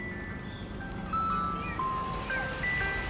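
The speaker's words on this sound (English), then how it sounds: "An ice cream truck." An ice cream truck plays its tinkly chiming tune in a residential neighborhood, the melody fairly faint and a little distant over a low background hum.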